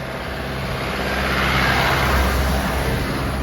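A car climbing a hill road toward Vagamon through misty highland country, its engine a steady close drone that swells slightly midway, with no voices.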